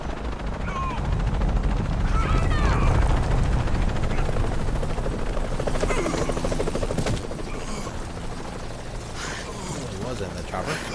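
A helicopter thrums in the Shadow of the Tomb Raider video game, its rotor chop mixed with bursts of gunfire and chaotic action noise while people shout and talk over it.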